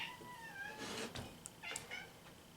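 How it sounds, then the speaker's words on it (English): A small pet cat screams and meows in a few drawn-out, wavering cries with short gaps between them, close and clear indoors in a quiet room. "Cat loves to scream."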